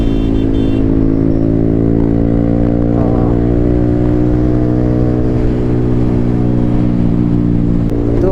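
Motorcycle cruising steadily along a main road, its engine droning loud and close with a continuous harmonic hum that shifts slightly in pitch as the rider holds speed, with no talking.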